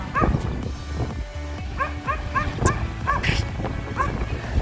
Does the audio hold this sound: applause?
no